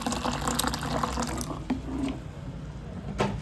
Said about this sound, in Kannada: ಇನ್ನು ಸ್ವಲ್ಪ ನೀರು ಬೇಕಾಗುತ್ತೆ ಸೇರಿಸ್ಕೊಳ್ಳೋಣ